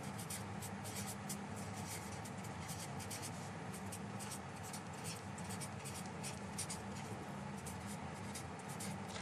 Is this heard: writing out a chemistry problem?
yes